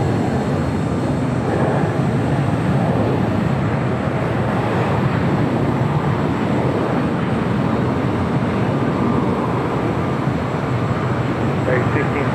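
A China Airlines Airbus A350 touching down at LAX on the north side, a loud, steady broadband roar of jet engines that fills the whole span.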